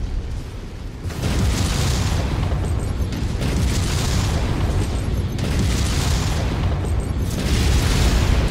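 Rapid SRM missile barrages exploding in a mech combat game, a dense continuous roar of blasts with four heavy swells, loud and sustained after a quieter first second.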